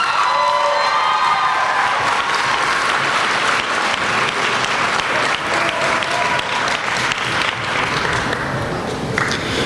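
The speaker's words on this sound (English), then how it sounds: "So as loud as you can, a big thank you applause for all of those around you." Loud, sustained applause from a graduation crowd mixed with cheers, whoops and children shouting, a dense wash of clapping that holds strong throughout with scattered voices calling out.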